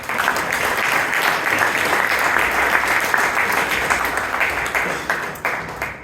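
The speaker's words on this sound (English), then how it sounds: "Please give him a big round of applause." An audience at a Bangalore Toastmasters meeting gives a big round of applause for a first-time evaluator, steady continuous clapping throughout that fades slightly at the close.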